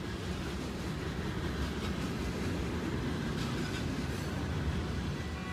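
An older-generation Metrolink commuter train in the Train Sim World 2 simulator on the Antelope Valley Line rumbles steadily with a dense, even rolling roar throughout, no speech over it.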